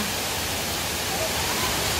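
Daranac Falls waterfall pours in a steady, dense broadband rush, loud and unbroken from start to finish, with no distinct voices standing out above the water.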